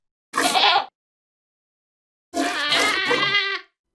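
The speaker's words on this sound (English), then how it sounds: "And new screams for them being milked." A Minecraft screaming goat being milked gives two loud, harsh, bleating screams, a short one and then a longer one after a pause, with nothing else heard.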